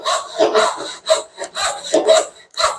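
A hand rip saw cuts through wood clamped in a vise for a half-lap joint, making close rasping strokes in an even back-and-forth rhythm, about six or seven strokes with short pauses between.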